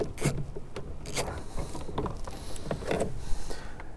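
An 8mm bolt is worked loose from the door panel of a 2004–2008 Ford F150 truck, giving close, irregular ratcheting clicks and scraping mechanical knocks at moderate volume.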